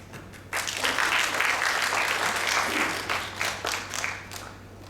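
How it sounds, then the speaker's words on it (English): Sustained audience applause at a NIFT Raebareli industry meet fills the room, starting abruptly after a brief quiet moment and holding steady before thinning out near the end. "you don't have to clap"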